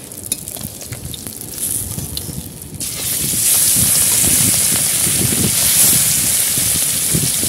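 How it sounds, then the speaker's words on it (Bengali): Oil sizzles gently, then swells into a loud, dense frying hiss as fish goes into the pan, with scattered spattering pops. "বাকি মাছগুলো ভেজে নেব।"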